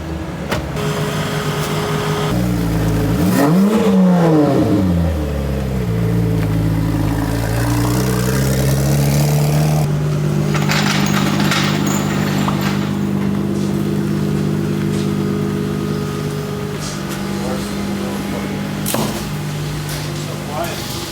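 Nissan R34 Skyline engine revving hard with a rising and falling pitch sweep early on, then a steady loud driving drone, close and continuous, with voices talking over it.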